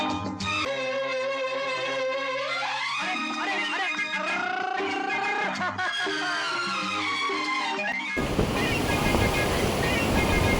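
Ocean surf on Thalpe beach, a rocky stretch of the Sri Lankan coast, bursts in loud and close as a broad rushing wash near the end, after music fills most of the clip.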